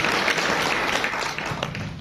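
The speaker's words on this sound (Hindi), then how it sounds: "बजा सकते हैं आप तालियां" An audience at a talk applauds, many hands clapping in a thick, continuous patter that stays fairly loud for the full two seconds and thins only slightly toward the end.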